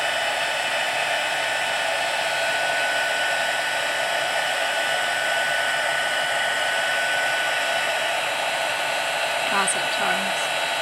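A heat tool for heat embossing runs continuously, a close, steady blowing whir with no pauses and no talk over it.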